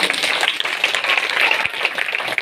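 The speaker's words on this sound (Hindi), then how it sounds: "जोर से प्रभु के लिए ताली बजाएं।" A church congregation claps together for the Lord during a worship service. The applause is steady and dense, with a continuous patter of many hands that holds at the same level for the whole stretch.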